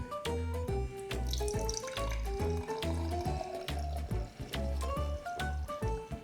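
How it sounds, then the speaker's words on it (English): Homemade fruit wine poured into a fermenting vessel on a small farm, a steady gurgling, trickling flow of liquid with rhythmic glugs, fairly close and without talk. "So I can pour the wine here."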